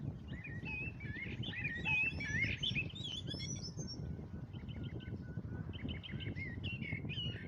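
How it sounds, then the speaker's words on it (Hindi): Several small birds chirp and trill together outdoors, bright overlapping tweets and short repeated calls over a steady low background hum, moderately close and continuous without talk. "फिर कुछ समय बाद पक्षी वहाँ आते हैं और आवाज करने लगते हैं।"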